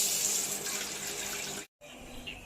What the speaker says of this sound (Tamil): எந்த கப்பால் ரவா எடுத்து எடுக்கிறீங்களோ அதே கப்பால் 4 கப்பு தண்ணி ஊற்றிக்கலாம்